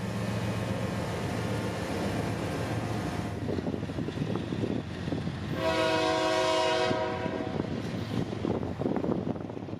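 A Florida East Coast Railway train hauled by GE locomotives departs with a steady rumble of engines and wheels, and partway through a loud multi-tone horn sounds for a couple of seconds.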